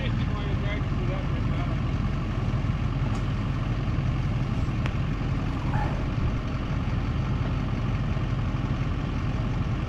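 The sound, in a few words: Duramax pickup truck engine idling, stuck in mud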